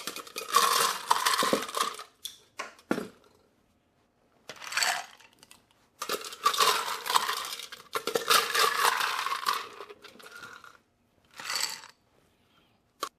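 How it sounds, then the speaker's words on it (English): Ice cubes tumbling into a mojito glass in several bursts of clattering and rattling, close and fairly loud, separated by short quiet gaps. "Next, we want to take and fill the glass of ice."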